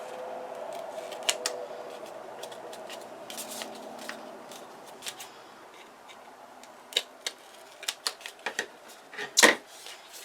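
Scissors snip through the edges of adhesive contact paper with a string of crisp, close clicks that come faster near the end, over a quiet room hum.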